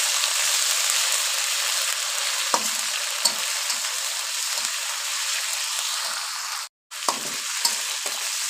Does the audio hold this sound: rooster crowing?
no